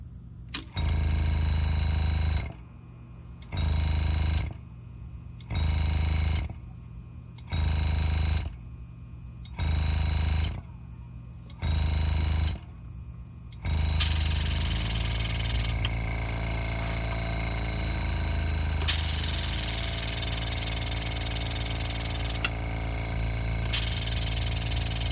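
An air compressor feeding an engraving machine cycles in short, regular bursts, starting and stopping about every second, then settles into a continuous loud run with occasional hissy surges.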